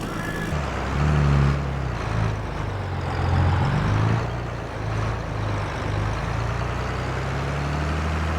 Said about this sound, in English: We're going to go ahead and get this tractor and baler home, and we'll go from there.